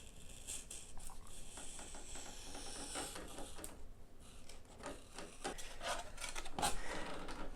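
A razor blade drawn along a foam aileron of an FT Mini Corsair model plane, cutting a bevel, gives soft, close scraping and rubbing strokes in an uneven, repeated rhythm, with no talking.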